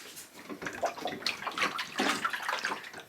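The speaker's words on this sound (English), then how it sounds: "If we pick up the wing like this, you can literally hear water sloshing inside." Water sloshing and splashing inside the removed rear wing of a 10th-generation Honda Civic Si as the wing is lifted and tipped, with irregular close-up swishes and gurgles.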